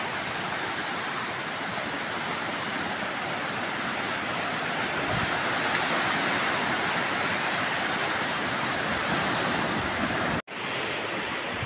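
Ocean waves crash against the rocks at Guhagar beach in a loud, continuous roar of surf with wind buffeting the microphone, broken by one brief dropout near the end.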